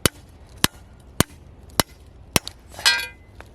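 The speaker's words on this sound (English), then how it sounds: "I'm going to use this rock as an anvil, and we're going to just flatten down the edges" A hammer strikes the edges of metal pieces on a rock used as an anvil, flattening them in five sharp, evenly spaced ringing blows, then a rattling clatter. No one speaks.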